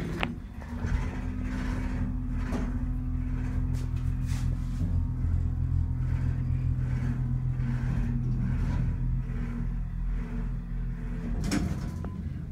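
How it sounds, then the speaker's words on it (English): A Seaberg hydraulic elevator motor hums steadily at a middle school, a continuous low drone with layered tonal whine that holds loud and even throughout, with a few faint clicks and knocks over it. "Wow, what a motor."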